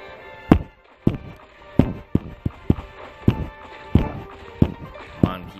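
Bombs explode in the Burrito Bison video game: about ten sharp, punchy blasts in a fairly steady rhythm, each fading quickly, loud and close over a faint game background.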